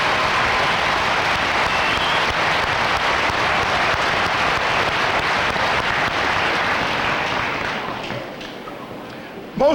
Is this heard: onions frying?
no